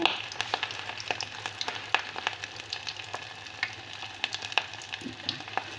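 Chicken drumsticks wrapped in a potato and meat coating sizzle and crackle in hot oil, a quiet steady fry with frequent small pops and spits.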